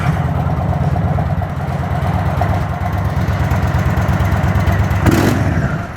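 Indian Sport Chief motorcycle with an air-cooled engine and stock muffler idles steadily up close, a low, even rumble with a brief sharper burst near the end.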